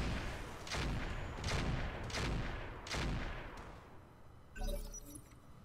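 Mech weapons fire in the Roguetech battle game in a run of four heavy, booming shots about a second apart, then a sharper crackling impact, all fairly quiet and with no talking.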